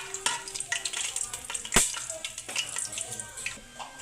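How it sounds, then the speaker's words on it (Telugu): Whole garam masala spices frying in hot oil for vegetable biryani: a crackling sizzle with sharp pops and stirring clatter, one loud clink midway, fairly close and moderately loud. "ఇందులో గరం మసాలా దినుసులు వేయించుకుందాం."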